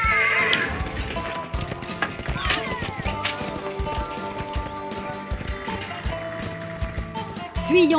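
Horses pulling a cart neigh and whinny over steady clip-clopping hooves, with a rising whinny near the end; the scene is busy and fairly loud, and a voice is heard faintly at times.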